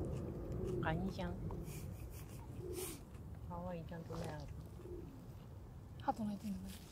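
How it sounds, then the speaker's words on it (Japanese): A pigeon coos in repeated soft, low phrases at a riverside picnic spot, with people chatting nearby and a few other bird chirps mixed in. "ハト鳴いてるんだ。"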